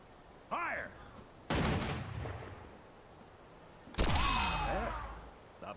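Rifle volley fire in the video game Guild Wars 2, two loud crashing salvos of massed gunshots with rolling echoing tails, plus a short whistling tone before the first volley.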